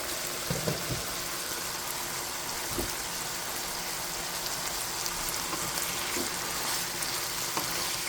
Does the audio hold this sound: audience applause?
no